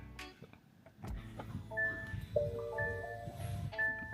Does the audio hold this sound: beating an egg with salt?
no